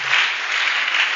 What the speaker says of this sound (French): Apportons les acclamations pour tous ces anciens.